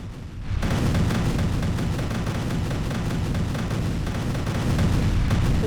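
Missile strikes and explosions across Ukraine produce a dense, continuous roar of blasts and crackling booms, starting after a brief quieter moment and staying loud to the end.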